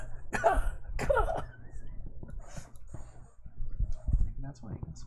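A person imitates a cat hacking up a hairball with a few harsh, gagging coughs, followed by quieter throaty noises and muttering.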